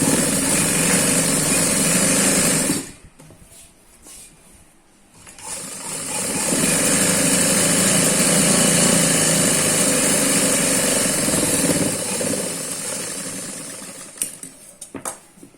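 A sewing machine stitches a frock in loud, steady runs of rapid mechanical whirring, stopping for about two seconds before starting again and ending in scattered clicks.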